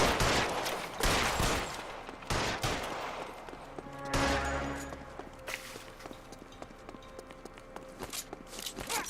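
Gunfire in the crime game L.A. Noire Remastered: a burst of loud sharp shots early on, then scattered single cracks amid footsteps and movement, with a low rumble around the middle and quieter shuffling toward the end.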